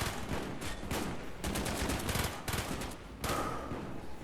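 Sustained Call of Duty Zombies gunfire, dense overlapping automatic shots in loud bursts with brief dips between them, no talking.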